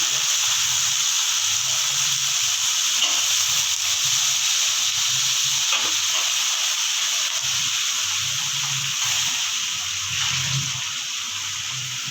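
Potatoes fry in a pan with a steady, close sizzle and hiss that softens slightly toward the end, with no talk.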